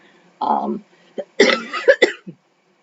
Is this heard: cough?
yes